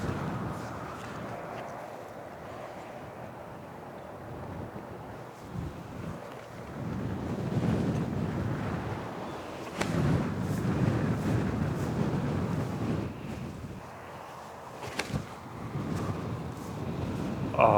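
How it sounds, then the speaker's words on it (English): A strong headwind of about 20 mph buffets the microphone during outdoor disc golf practice, a loud, continuous rumbling roar that swells and gusts unevenly, with a few sharp thumps. "the wind picks up to like 20 miles an hour now"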